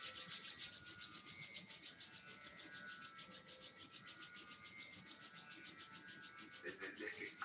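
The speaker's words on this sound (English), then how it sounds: "Rub the palms briskly" Palms rub briskly together in a quiet yoga session, a soft rapid back-and-forth swishing with steady rhythmic pulses, close and faint, with no talking.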